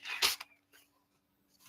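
A person's sharp sneeze bursts out loudly at the start, followed by a softer sniff or breath, and the rest is near-silent room tone.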